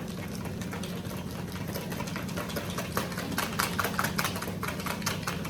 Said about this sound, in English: Keep whipping. It may spill a little bit, but that's okay.